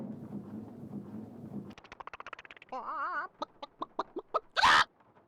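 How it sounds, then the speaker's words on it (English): A chicken clucking sound plays as a hidden bonus effect in the Nancy Drew game Legend of the Crystal Skull, a run of short clucks that ends in a louder squawk, with no talk over it. "it made the chicken Easter egg sound"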